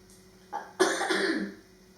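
A single short cough, close and fairly loud, preceded by a faint breathy catch.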